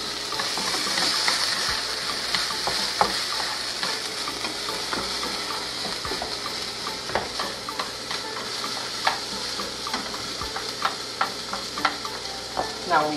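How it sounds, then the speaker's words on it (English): Rice stirred in a hot pan with a sizzling, bubbling wash and frequent scrapes and clicks of a spoon against the pan, close and continuous. "So now we add our rice."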